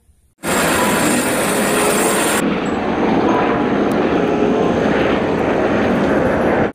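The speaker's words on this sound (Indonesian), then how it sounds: "Ini adalah helikopter." A helicopter's loud, steady rotor and engine roar starts abruptly and holds for several seconds, close and constant, then cuts off.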